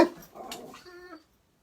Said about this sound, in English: We have dogs.